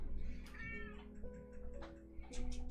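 A cat meows several times in quick succession, each call a short rising and falling wail, fairly faint and heard alone without speech.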